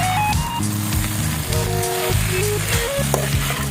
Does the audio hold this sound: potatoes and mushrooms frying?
yes